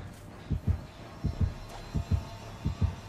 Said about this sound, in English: I'm hearing constant heartbeats